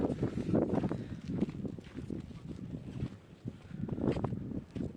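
Wind gusting across a hilltop at Ambaji Durga Betta near Chintamani, Karnataka, buffeting the microphone in uneven rumbling bursts throughout.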